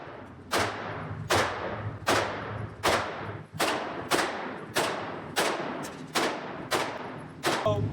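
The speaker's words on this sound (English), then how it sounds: "So today we shot the Glock 19, Staccato CS, the Glock Generation 4, SIG, P11, P211" Pistols such as a Glock 19, Staccato CS and SIG fire at an outdoor gun range: nine sharp, loud shots spaced at a slow, steady rhythm, each with a short decaying tail.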